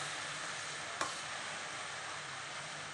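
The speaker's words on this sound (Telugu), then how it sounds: "అల్లం వెల్లుల్లి పేస్ట్ స్లో ఫ్లేమ్లో పెట్టి ఫ్రై చేయాలి" Ginger garlic paste frying slowly on a low flame for chicken pickle, giving a steady soft sizzle with one brief stir sound partway through.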